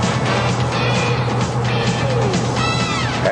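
A 1992 GMC Typhoon truck drives at speed on a race track, its engine holding a steady loud drone with a faint rising whine near the end and no talk.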